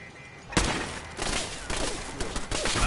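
Turret gunfire in Fallout 4 rattles out as a dense, loud burst of rapid shots after a brief quiet start, continuing in heavy, uneven volleys.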